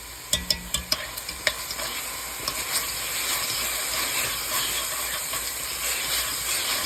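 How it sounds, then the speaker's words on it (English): Tomato paste sizzles and steams in a hot pot with braised beef ribs, opening with several sharp clacks of a utensil stirring against the pot, then a steady close frying hiss. "This is the tomato paste, guys. Add in about 2 tablespoons is good enough."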